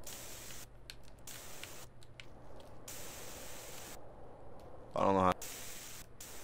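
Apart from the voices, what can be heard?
spray paint can spraying in the video game GTA San Andreas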